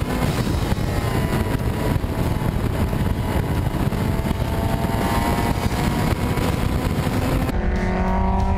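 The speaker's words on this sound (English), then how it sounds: "Neil de Latte starts to put the pressure on Clark as well as they head to the final bend and onto the start-finish straight" Historic Lotus race cars at Phakisa circuit roar loudly and continuously as they run toward the final bend and onto the start-finish straight, with the engine note droning steadily and shifting slightly near the end.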